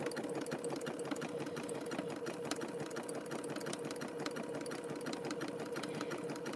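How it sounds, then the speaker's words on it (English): A sewing machine stitching a rope bowl, a steady fast mechanical hum with rapid regular needle clatter running the whole time, close and constant, with no talking. "our sewing machines were not made to make bowls, that's for sure"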